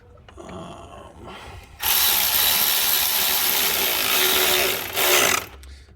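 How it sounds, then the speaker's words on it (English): Power tool whirring loudly for about three seconds while tightening a bolt on a 2005-2015 Toyota Tacoma 4.0L V6 engine, a steady high buzz with a brief surge near the end, close by. "I will tighten this bolt down right now."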